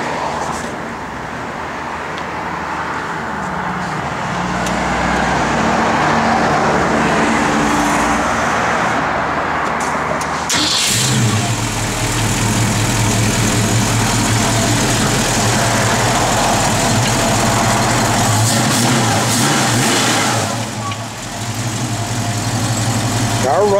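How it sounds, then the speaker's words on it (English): A supercharged 1967 Ford Mustang convertible engine runs at a steady idle, then catches louder with a deeper low rumble partway through and keeps idling close by, with faint voices around it. "Car runs too, of course."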